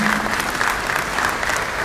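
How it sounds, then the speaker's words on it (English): Dense, steady applause fills a university congregation ceremony at KNUST attended by the Asantehene, a loud, continuous wash of many hands clapping together. "Please clap well."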